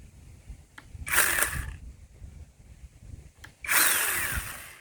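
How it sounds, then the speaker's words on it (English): A small Bauer 20V lithium battery chainsaw revs in two loud bursts, each lasting about half a second to a second, with quieter idling and handling noise between them. "The little buddy, little bitty chainsaw, man."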